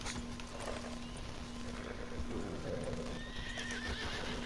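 Horses clip-clop and whinny in a video game, with steady hoofbeats and repeated neighs over a constant background hum, continuous throughout.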